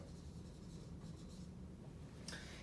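A pen or marker writes an equation by hand with soft, faint scratching strokes that last a few seconds. The strokes sit under a steady low background hum, and one brief louder scrape comes near the end.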